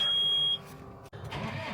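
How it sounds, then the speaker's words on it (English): A John Deere tractor sounds a steady high-pitched electronic beep up close for about half a second, then cuts off, leaving a low idling rumble. "John Deere beeping its head off as usual."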